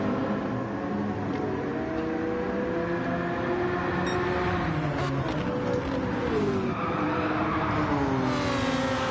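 Race cars running at speed on the High Speed Ring circuit during an overtaking battle, a steady loud engine drone with rising and falling pitch as cars pass and accelerate, continuous throughout.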